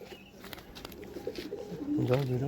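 A pigeon being handled, with soft rustling and scattered faint noises, then a clear low cooing at the end, close to the microphone.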